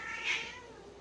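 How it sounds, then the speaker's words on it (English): Cats fight and caterwaul somewhere in the background, a single strained, wailing yowl that swells briefly and then fades, faint and distant, with nobody speaking. "we have cats in the background killing each other."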